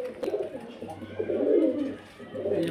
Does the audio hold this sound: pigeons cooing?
yes